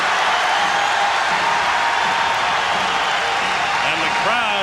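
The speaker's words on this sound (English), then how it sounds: "And the crowd trying to help out at the DuPont Pavilion" A college basketball crowd at the DuPont Pavilion in a tight game, a loud steady roar of cheering and shouting that fills the arena, with an announcer talking over it.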